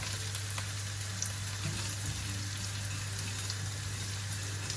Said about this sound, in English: Just going to dry roast this until they get aromatic and kind of roast up basically.